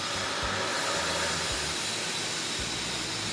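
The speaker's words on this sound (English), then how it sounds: "You can see like this kind of the air shaft, and also the like air blower" An industrial air blower in a plastic pellet factory roars as dense, steady broadband noise, loud and close, with faint low thumps from nearby machinery underneath and no voices.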